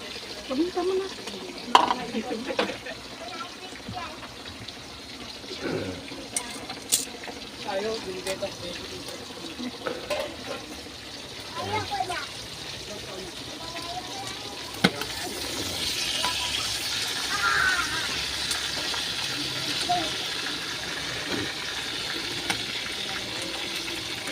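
Flour-coated pork fries in a pan, giving a soft, steady sizzle that swells into a brighter hiss in the latter half, with scattered clinks and taps of handling and occasional speech.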